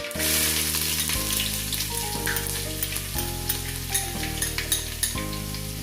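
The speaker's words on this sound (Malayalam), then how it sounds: "ഇഞ്ചി പൊടിയായിട്ട് അരിഞ്ഞതാണ് അതാണ് ഇട്ട് കൊടുക്കുന്നത്" Mustard seeds and finely chopped ginger fry in oil for a gooseberry pickle, a bright, dense crackling sizzle heard close up under steady background music.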